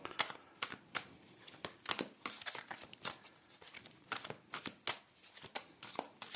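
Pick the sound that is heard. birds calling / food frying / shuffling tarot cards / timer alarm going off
shuffling tarot cards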